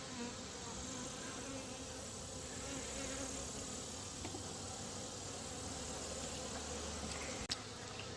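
Honey bees buzz in a dense, continuous drone during a hive inspection, close and steady throughout, with a brief click near the end and no talking.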